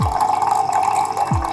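Cloudy first wort running from the tap of a mash tun during home beer brewing makes a steady, close pouring and splashing of liquid with a constant watery tone and no talk.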